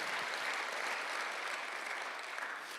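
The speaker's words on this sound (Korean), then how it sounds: "박수를 하나 드세요." A congregation at a Sunday church service breaks into applause, a steady wash of many hands clapping, fairly faint and distant, holding evenly throughout.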